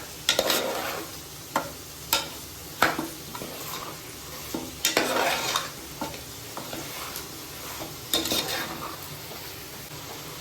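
Chicken pieces, bone-in, fry in oil for chicken kurma, a steady sizzle broken by repeated scraping stirs of a spoon against the pan, close and moderately loud, with no talking.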